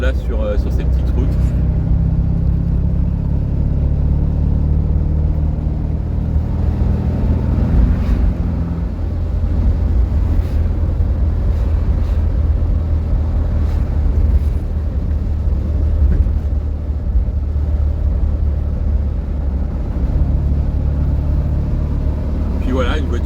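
The engine of a 1971 Fiat 500 drones steadily from inside the car while driving on small roads, a low rumbling hum that holds constant throughout with slight shifts in tone.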